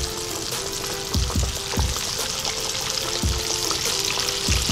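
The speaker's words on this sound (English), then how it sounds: "All right, and let's get it frying." Pieces of blue crab sizzle and crackle in hot oil, a dense steady frying hiss with occasional sharper pops and spatters, close and loud, with no talking.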